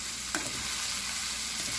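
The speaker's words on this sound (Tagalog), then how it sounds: "Kaya kailangan hahaluin natin siya ng medyo matagal-tagal." Ground meat sizzles and crackles steadily in a hot pan while being stirred, with a dense continuous frying hiss and a brief scrape of the utensil near the start.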